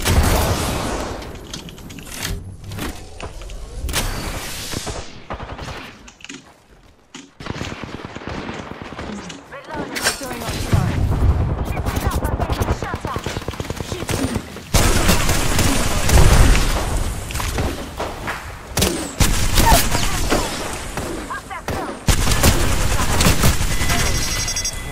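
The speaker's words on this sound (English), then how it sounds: "Getting shot at." Dense gunfire fills an Apex Legends match, with rapid bursts, explosions and impacts layered loudly throughout while a player talks over the action.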